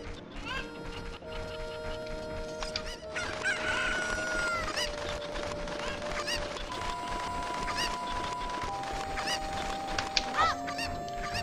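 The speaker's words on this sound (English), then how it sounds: "So I know they're not chickens, they're cuckoos, but whatever, they're still chickens." Cuckoo chickens from Zelda: Ocarina of Time cluck and crow repeatedly over steady game music, with overlapping bird calls continuing throughout.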